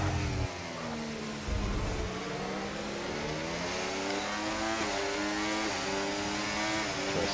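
F1 race cars in F1 24 drive in a steady, high engine drone, with layered tones from several cars shifting slightly in pitch, continuous and fairly loud.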